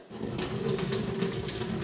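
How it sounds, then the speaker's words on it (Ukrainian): Cold tap water runs steadily into a container of dried peas being rinsed, a continuous close splashing gush with no pauses. "заливаю холодною водою декілька разів"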